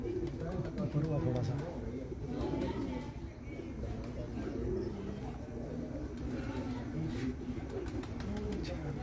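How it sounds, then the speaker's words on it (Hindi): Pigeons cooing softly in a loft, low repeated coos scattered through the background beneath steady chatter and nearby voices talking. "उनके बड़े अच्छे कबूतर बैठे हैं"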